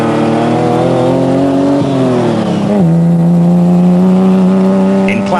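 Toyota Land Cruiser in the 2001 Roof of Africa off-road race in Lesotho, its engine droning loud and close, pitch climbing and dipping through gear changes as it accelerates.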